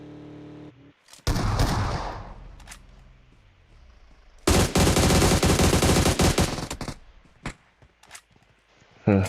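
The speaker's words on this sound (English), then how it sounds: "First couple of shots there from Bullings." Loud PUBG Mobile gunshots in a competitive community match, with an opening cluster of shots followed by a long, dense burst of rapid automatic fire and a few isolated shots near the end.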